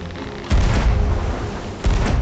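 Cannon shots fired at a ship in Sea of Thieves, two loud booming blasts spaced well apart over a rumbling background.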